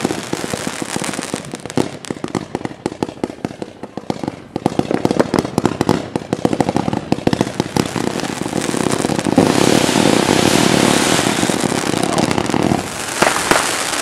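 New Year's Eve fireworks are being fired up, a dense, continuous barrage of loud crackling bangs and pops close by that swells into a heavy roar in the second half.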